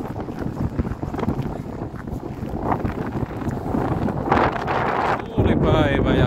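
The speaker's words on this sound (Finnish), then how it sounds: "Täällä tuulee todella paljon tällä hetkellä, niin en tiedä kuuluuko puhe ollenkaan." Strong gusting wind at a lake harbour on a grey winter day, a loud roaring buffet against the microphone that swells and drops throughout.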